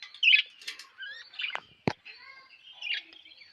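Pet birds chirping and calling noisily at home while waiting to be fed, a run of close, bright tweets and squawks with a few short flaps and a sharp knock in between, no speech.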